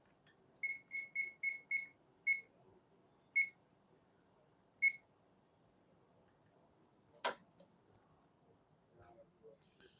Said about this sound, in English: let's get a timer